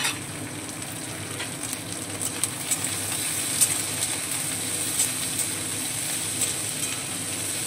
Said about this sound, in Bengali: সমস্ত সবজিগুলো খুব ভালো করে তেলের মধ্যে ভেজে নেব।